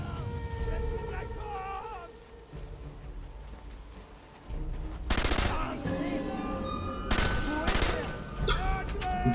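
Gunfire in the Sniper Elite 3 video game, with several loud bursts of shots breaking in over background game sound and effects, while a person talks over the action.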